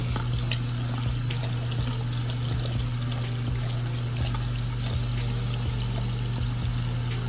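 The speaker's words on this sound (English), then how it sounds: "I'm gonna rinse off my pad." Tap water runs steadily into a sink as a makeup brush cleaning pad is rinsed, a close continuous splashing flow with a low steady hum underneath and no talk.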